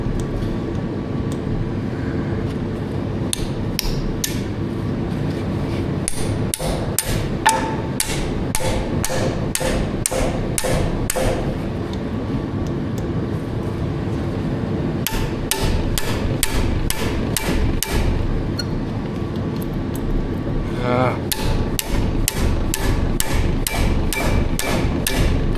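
A hammer strikes a stuck chisel during work on an A4T oil cooler and rear axle, a series of sharp metallic blows coming in clusters over a steady low background rumble; loud and close, with no talking.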